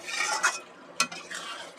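Chicken curry is stirred and fried in a pan over a raised gas flame. A close, steady sizzle runs under two sharp scrapes of a spoon against the pan, with no voices.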